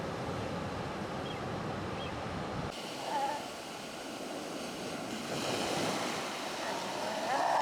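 Ocean waves washing onto a Galapagos beach where sea lions play, a steady broad surf roar with wind noise throughout, continuous and moderately loud.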